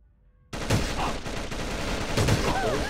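Video game gunfire from AVA erupts in a sudden, dense burst of rapid shots that keeps rattling loudly for several seconds with no pause.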